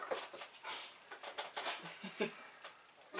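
A dog whimpering and panting close by, soft high whines and snuffling breaths in irregular bursts, with faint shuffling and no clear speech.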